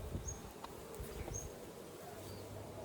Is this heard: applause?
no